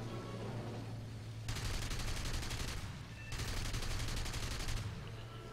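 Two long bursts of rapid automatic cannon fire from a Bf 109 G-2 fighter in War Thunder, each lasting over a second, separated by a brief pause over a steady low engine drone.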